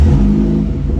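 A new car fitted with a Stage 1 tune and a full straight-pipe exhaust fires up, its engine settling into a loud, deep, steady rumble close by, nothing else heard.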